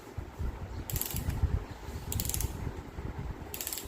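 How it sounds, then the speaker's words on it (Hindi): Key being hand-wound on a mechanical 16 mm film camera in a museum collection: a run of close, dry ratcheting clicks, with three short bursts of sharper metallic whirring spaced a little over a second apart. "मैं चाबी भर रहा हूँ हाथ से। ये मैकेनिकल 16 mm का कैमरा है।"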